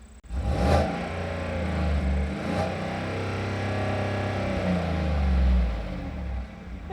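A 2018 Chevy Silverado's 5.3-liter Ecotec V8 revs through a subtle, restrained exhaust, with a few quick blips and then a longer swell of revs that settles back to idle, close and clear with no talking.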